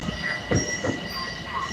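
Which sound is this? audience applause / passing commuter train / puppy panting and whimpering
passing commuter train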